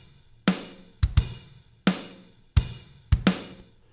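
Half-open hi-hats from a Logic Drummer virtual drum kit, playing a steady pattern of sizzling, washy cymbal strikes over kick and snare hits, loud and close with no talking.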